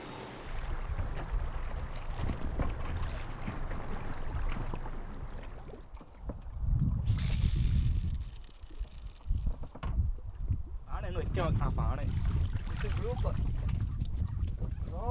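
Boat sailing away from the island of Didu on a fishing trip, steady motor and water rumble close by with wind gusts, under people talking throughout.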